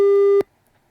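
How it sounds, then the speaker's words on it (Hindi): Telephone busy tone after a call is disconnected during a Hindi news broadcast: one loud steady tone lasting about 0.4 seconds, then a click and near silence. "राजाराम जी हमारे साथ में, यही कारण है उन्होंने फोन डिस्कनेक्ट कर दिया।"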